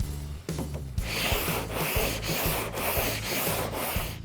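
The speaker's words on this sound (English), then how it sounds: "I'm going to start sanding it with a fresh piece of 80 grit, again the cross blocking" Fresh 80-grit sandpaper on a block is worked by hand in cross strokes over polyester glaze filler on metal bodywork, giving loud, close, continuous back-and-forth rasping in an even rhythm.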